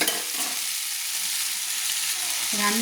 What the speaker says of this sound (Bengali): আমি দিয়ে দিলাম খুব সামান্য জল